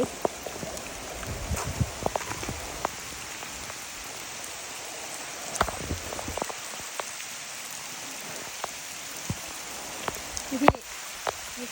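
Steady rain patters on surfaces beside a forest stream, a dense close hiss with scattered heavier drips and occasional small knocks throughout.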